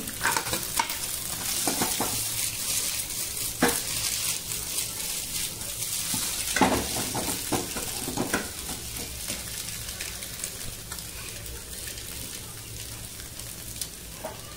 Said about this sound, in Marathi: त्याच्यानंतर त्याच्यामध्ये मी कांदा टाकते, त्यानंतर कोबी,